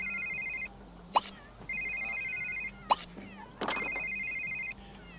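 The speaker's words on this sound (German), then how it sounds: "Und irgendwo bimmelt dein Handy." In The Sims 3, a mobile phone rings in repeated electronic trills, three bursts separated by pauses, heard over faint game background and brief sharp clicks.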